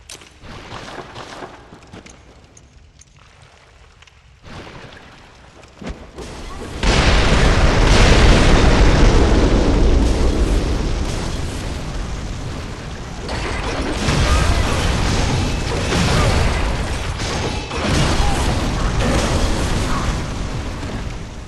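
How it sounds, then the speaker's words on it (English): A room blowing up in Bloodborne: quiet rustling and a few clicks, then a sudden loud, sustained roaring blast with crackling fire that swells again midway and rumbles on for many seconds. "That room is primed to explode."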